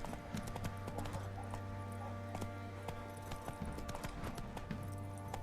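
Roach, the horse in The Witcher 3, gallops with a rapid, rhythmic clip-clop of hooves in the game, steady and close throughout over a low ambient hum, with no voices.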